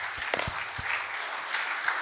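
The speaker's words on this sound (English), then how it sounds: "Big round of applause, guys," An audience at a tech event's grand finale claps in steady applause, even and moderately loud throughout, with a few sharper low thumps near the start.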